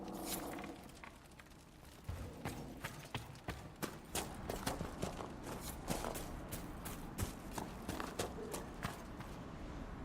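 Horse hooves in a video game clop steadily at a walking pace, close and clear, with a busy background of ambient noise and no talking.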